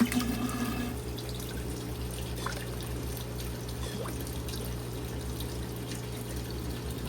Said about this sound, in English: go get the water flowing